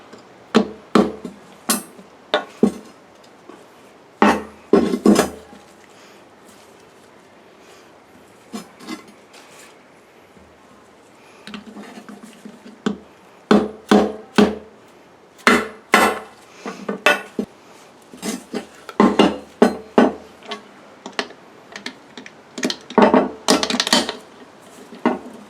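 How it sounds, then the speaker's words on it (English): An aluminum seal driver tapping a seal out of a Borg Warner 1305/1339 Quadratrac transfer case during a rebuild, sharp metallic knocks in irregular bursts and clusters, close and loud, with quiet pauses between. "what I have here is just a aluminum seal driver. You should tap this right out without too much force."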